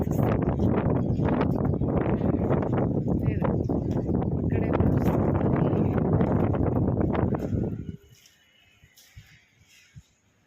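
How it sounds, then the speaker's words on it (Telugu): Strong wind on an open hilltop overlooking Kamareddy buffets the microphone in a loud, continuous roar for about eight seconds, then drops away to quiet with faint scattered sounds. "ఫుల్ గాలి"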